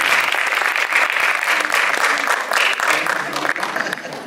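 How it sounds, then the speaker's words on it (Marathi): Loud, sustained applause from a crowd at a Marathi film trailer launch, greeting actress Rajasi with steady dense clapping throughout. "जोरदार टाळ्या राजसी"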